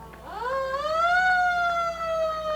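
An antique police car siren winds up from low to a high sustained wail at a town centennial parade, loud and close, with no talk over it.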